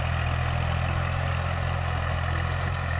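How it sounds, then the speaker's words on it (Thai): A Kubota L3608 tractor engine runs steadily in a dry rice field, a close, constant low diesel drone with no breaks. "มาดูรถไถแท็กเตอร์ครับคูบต้า L3608 ครับพี่น้อง"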